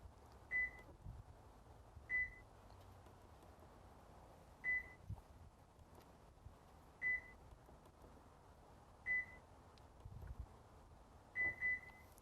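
A Subaru keypad beeps as a PIN code is entered and confirmed, with short, clear tones spaced a second or two apart over a quiet background and a quick double beep near the end.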